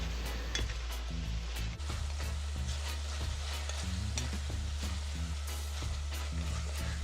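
Pork sizzles and fries in a pot with caramel browning, herbs and fresh ginger, a steady close hiss with a low hum beneath and repeated scraping and clinking of a spoon stirring throughout.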